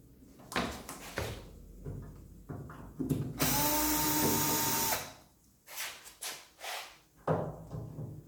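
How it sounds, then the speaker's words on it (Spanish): An electric screwdriver fitted with interchangeable bits backs screws out of a microwave oven being dismantled for recycling. Short whirring bursts alternate with one long, steady high-pitched run, with light clattering between them and no talking. "nos valemos de un atornillador eléctrico con sus diferentes bocas que iremos utilizando a medida que aparezcan los tornillos"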